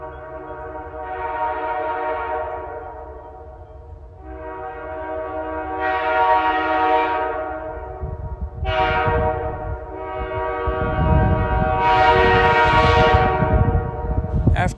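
The horn of an SD40-3 diesel locomotive, Quebec-Gatineau Railway number 6908, blows several loud, sustained multi-chime blasts, close by, with the rumble of the passing train building underneath.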